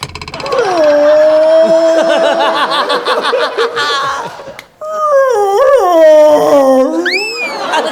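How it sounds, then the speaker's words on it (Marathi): A dog howls loudly in long, drawn-out wavering tones, pausing briefly before rising into another sustained howl with pitch slides. "सर तो कुत्रा आहे."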